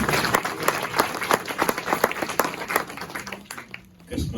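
An audience at a Christmas church gathering in Kuwait claps steadily and fairly close, with a dense patter of many hands that eases briefly before picking up again.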